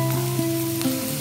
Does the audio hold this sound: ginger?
yes